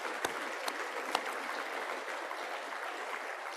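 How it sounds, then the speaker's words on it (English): A round of applause at a gala dinner for Indigenous business award winners, steady dense clapping from a crowd with a few sharper nearby claps standing out. "So if we can give a round of applause,"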